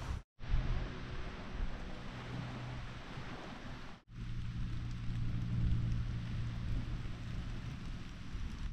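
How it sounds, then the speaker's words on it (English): Steady rain patters and hisses continuously on a secluded trail, broken by a brief silence early on and another short dip midway, with a low rumble underneath. "it's starting to rain"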